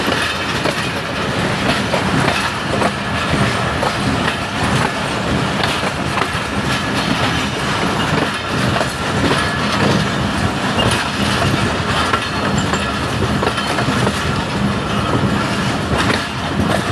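Millat Express passenger train running on rails near Jhumra Junction, Pakistan, with a steady, loud rumble and rhythmic clickety-clack of wheels over rail joints throughout, continuous and close with no talk.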